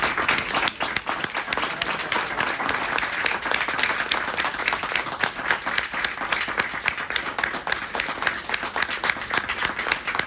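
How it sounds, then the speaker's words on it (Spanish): An audience at a Storyboarding Almodóvar book presentation in FNAC Callao claps steadily and loudly for about ten seconds, dense and continuous with no voices standing out. "se lo demostramos con un fuerte aplauso"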